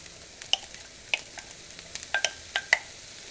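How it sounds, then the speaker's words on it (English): Ground beef and onions in a frying pan give a soft hiss with a series of sharp crackles and pops as the meat is stirred, close and without talk. "You can hear that start to sizzle."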